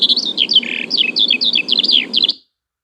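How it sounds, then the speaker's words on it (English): Skylark song: a rapid, loud, close run of high warbling trills and chirps delivered continuously for a couple of seconds before cutting off. "And the answer is the skylark."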